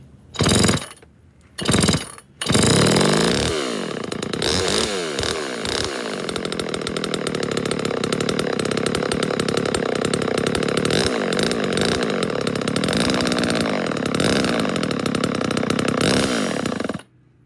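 An old 1979 Homelite Super EZ Automatic chainsaw engine starts after a few pulls, then settles into a loud, steady, buzzing idle heard up close for over ten seconds before cutting off, with no talk.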